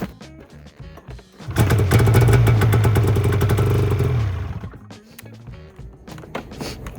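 A 1998 Polaris 600 RMK snowmobile engine catches on a cold winter start, sputtering into a loud, rapid two-stroke rattle for about three seconds before dying back to quiet clicks and shuffling.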